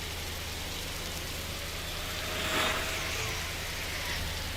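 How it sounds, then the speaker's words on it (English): Steady rain in a racing video game hisses as a dense, even wash of noise, continuous and fairly loud, with a slight swell near the middle. "Ignore the rain on screen."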